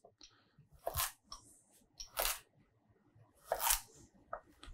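A knife chopping celery gives three crisp crunching chops on a cutting board at an uneven pace, with small clicks and rustles between them in a quiet room.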